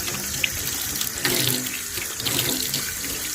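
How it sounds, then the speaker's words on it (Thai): Tap water runs steadily from a faucet into a sink while fish such as snakehead or catfish are rinsed of their slime, a continuous close splashing gush with slight changes in flow and no voices. "จากนั้นนะก็เปิดน้ำล้าง"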